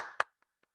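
A single sharp hand clap at a church Bible study, followed by two faint, quick taps, close and brief in an otherwise quiet room.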